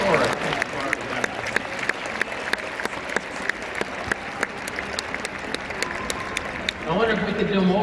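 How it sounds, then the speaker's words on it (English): A large conference audience gives itself a sustained round of applause, with distinct close claps cutting through the crowd's dense clapping before voices rise at the end. "give yourselves a round of applause for an enormous, historic thing you've already done"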